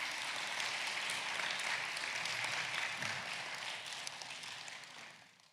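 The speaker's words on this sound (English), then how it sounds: "Smattering of applause" Students at a Christian academy's morning assembly give a smattering of applause: a steady patter of many hands clapping together that holds even, then fades away toward the end.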